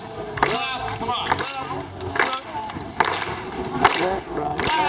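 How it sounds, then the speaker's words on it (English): A festival crowd at Musikfest in Bethlehem, Pennsylvania, joining a fire-eater's show with slow, evenly spaced hand claps, roughly one per second, over loud crowd chatter and a performer talking. "We all come together and do a nice slow hand clap, clap, clap"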